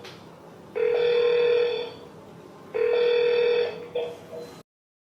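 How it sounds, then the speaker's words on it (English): A NEXhome door phone calls its indoor monitor with two long, loud electronic ringing tones separated by a pause, followed by a short, choppier chime before cutting off. "The door phone can call the indoor monitor directly."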